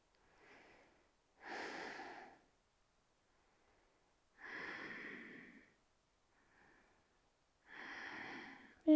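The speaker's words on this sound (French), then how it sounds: "Et on respire." Slow, deep breaths come and go during a yoga pose in a Hatha session, with loud airy exhalations alternating with softer inhalations in an even rhythm, close to the microphone.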